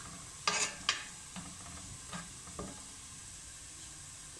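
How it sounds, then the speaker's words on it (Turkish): Cumin seeds roast in a pan for a creamy pea stew, giving a faint, quiet sizzle with a few sparse, brief scraping crackles spaced a second or so apart, and no voices. "bir çay kaşığı kimyon tohumları ekleyin ve 2 dakika kavuralım."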